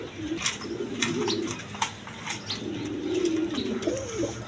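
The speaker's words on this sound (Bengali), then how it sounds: "এইখানে এক পেয়ার ডেনিশ কবুতর আছে 3 পটি লাল গিয়ার" A pair of Danish pigeons coo softly in a low, repeated rolling murmur, close by, with scattered rustles and faint clicks around them.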